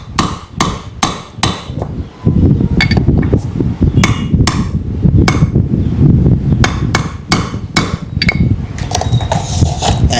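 Sharp metal hammer strikes driving a rear axle bearing into a Yamaha Mio i 125 scooter, a quick series of close, loud blows with bursts of clanking in between.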